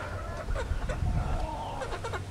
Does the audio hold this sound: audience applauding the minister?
no